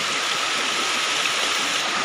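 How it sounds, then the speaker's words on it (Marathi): Swollen stream rushing fast after days of heavy rain in green forest, a dense, constant roar of churning water close by with no voices. "कसं वेगानं पाणी वाहत आहे आणि खूप मुसळधार पाऊस पडतो एक 2 दिवसापासून."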